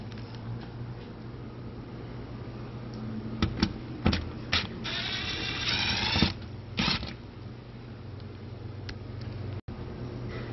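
Ratchet turning a screwdriver bit on a 2016-2021 Honda Civic CVT transmission, a run of clicking ratchet strokes and a short burst of rapid clicks over a low steady hum, fairly quiet.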